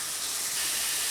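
Food sizzles in a hot pan while cooking, a steady bright hiss that stays constant and fairly loud throughout, with no talking.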